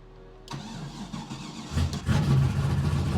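An ethanol-fuelled BMW E36 drift car, left sitting all winter, cranks and fires after half a second of quiet, then idles roughly and rises into a louder, throaty rev near the end.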